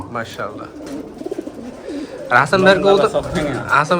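Pigeons coo at a large pigeon farm, their soft throaty calls rolling close by while people talk over and between them.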